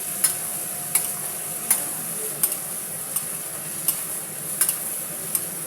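Cauliflower and potato curry being stirred in a pan, a steady low sizzle broken by regular scrapes of the spoon roughly every second, close and moderately quiet, with no talk.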